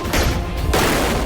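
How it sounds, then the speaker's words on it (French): A dense, continuous burst of explosions and detonations from a demolition science show, loud and booming with rapid overlapping blasts filling the whole moment. "Les explosions. Les détonations."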